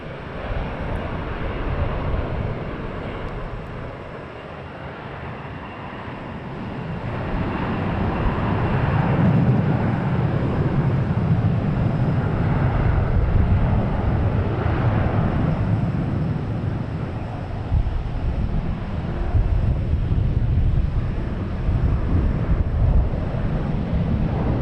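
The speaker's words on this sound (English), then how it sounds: "we got SAS taking off. Scandinavian Airlines heading back to Copenhagen" Scandinavian Airlines jet taking off at Logan Airport, bound for Copenhagen: a broad, continuous engine roar that swells and holds steady, distant but powerful, with some wind rumble on the microphone.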